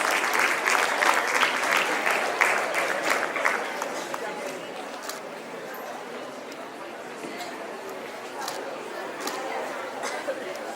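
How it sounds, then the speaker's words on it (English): An audience at an Army Welfare Education Society excellence awards ceremony applauds an award-winning school, with dense clapping and crowd chatter that is loudest early and gradually thins and fades. "Big round of applause for them, please."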